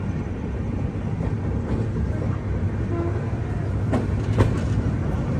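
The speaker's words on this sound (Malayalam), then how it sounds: "ട്രെയിൻ ഇത് വെസ്റ്റ് ബംഗാളിലെ മാൽഡ ടൗൺ റെയിൽവേ സ്റ്റേഷനിലേക്ക് എത്തിക്കൊണ്ടിരിക്കുകയാണ്" The Vivek Express rumbles into Malda Town railway station in West Bengal, a loud, continuous low roar of rolling wheels and carriages with a few sharp clanks and rattles as it passes close by.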